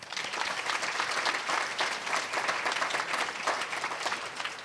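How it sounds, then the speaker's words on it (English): Luncheon guests at a cancer program celebration break into sustained applause, a full and continuous patter of many hands at moderate volume. "Joining me in a round of applause for him right now."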